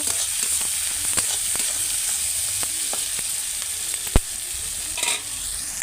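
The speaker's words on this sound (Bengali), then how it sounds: "দেখো বন্ধুরা পেঁয়াজটা আমার হালকা হালকা ভাজা হয়ে গেছে" Onion sizzles and crackles as it fries in a pan, a steady hiss broken by scattered pops and an occasional stirring scrape, with no talking.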